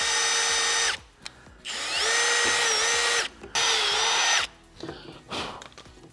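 A power drill whines at close range in three bursts separated by short pauses, its motor pitch shifting as it pre-drills a deck board.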